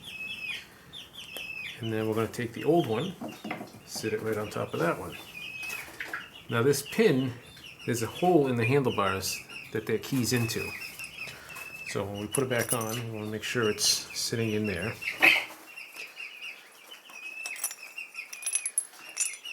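Young chickens cluck and cheep repeatedly in the background, fairly faint and scattered, while someone talks close up throughout about fitting a handlebar riser.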